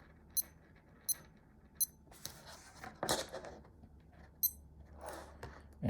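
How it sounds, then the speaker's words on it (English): A Casio F91W digital watch chirps with short, high, faint beeps spaced under a second apart, mixed with quiet handling clicks and rustling up close. "So this is the F91W beep."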